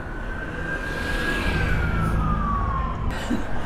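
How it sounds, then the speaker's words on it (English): A fire engine siren wails on a busy Vauxhall street in London, its rising and falling tone riding over steady traffic rumble as the vehicle passes nearby. "Do I see a fire engine coming?"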